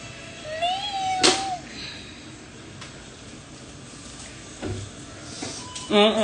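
A house cat gives one rising, drawn-out meow near the start, followed by a sharp clatter and a few scattered knocks and clicks indoors, with quiet background noise.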